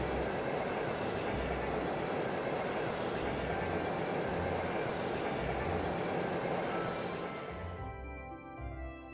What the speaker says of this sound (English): You're on a train.